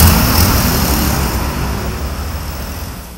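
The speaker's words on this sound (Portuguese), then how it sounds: "ruídos que nós ouvimos todos os dias no trânsito" Loud, continuous road traffic noise, a broad roar of passing cars and heavier vehicles on a busy street, fading slightly over a few seconds.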